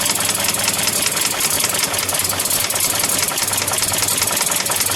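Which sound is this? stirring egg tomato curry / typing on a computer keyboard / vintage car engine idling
vintage car engine idling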